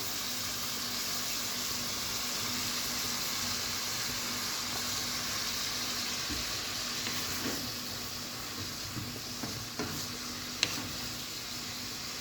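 Onions fry in a pan for an Italian-style chicken lasagna, giving off a steady, even sizzling hiss with a few faint clicks and taps toward the end.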